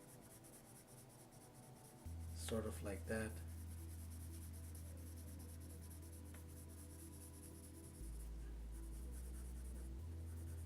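A pencil shades on paper while sketching a cartoon cat, a soft continuous scratching that runs close under a low steady hum, with a person speaking briefly over it.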